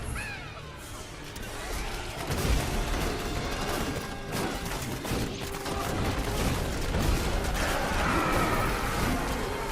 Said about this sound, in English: You see all these grenades that are bouncing. You get so many grenades.